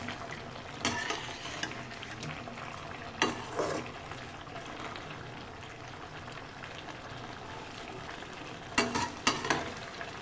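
Potato slices frying in oil in a pan for aloo katli, a soft steady sizzle with occasional louder stirring scrapes and clinks, close and without talk.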